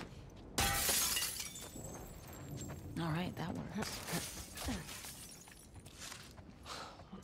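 A glass window shatters in the video game The Last of Us Part II, a loud bright crash with tinkling debris, followed by footsteps and rustling as a voice speaks briefly.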